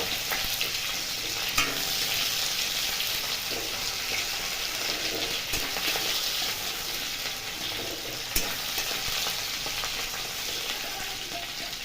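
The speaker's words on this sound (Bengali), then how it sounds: "পেঁয়াজ হালকা ভাজা হয়ে গেলে" Steady sizzling of onions frying in a pan, with occasional scrape-like clicks from stirring, continuous and fairly close, no voices.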